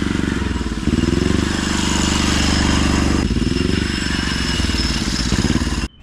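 A diesel motorcycle putters around a yard, its engine chugging in a steady, rapid thumping rhythm up close and loud throughout, then cutting off abruptly at the end.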